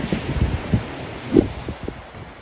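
Wind on the Indian Ocean coast in Sri Lanka buffeting the microphone in low, uneven thumps and rumbles, a continuous blustery rush with no voices.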